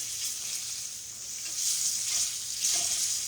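Catfish frying in hot grease gives a steady, close hiss and crackle with small pops, continuous and fairly loud throughout.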